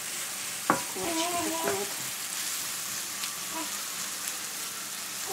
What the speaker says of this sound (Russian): Саша мешает лук. Лук должен поджариться.